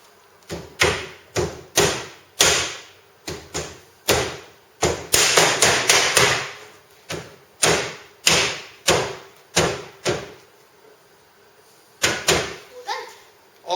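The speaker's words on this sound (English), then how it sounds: "These tile tops just simply press and click into place." DIAB decking tile tops being pressed and clicked onto a timber subframe: a close, steady run of sharp knocks and thuds in quick groups, with a few short pauses between the runs.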